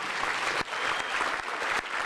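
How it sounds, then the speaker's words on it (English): An audience at a school band event gives steady, moderately soft applause for band students, a dense patter of many hands with a few sharper claps standing out, and no talking over it. "So give them a round of applause."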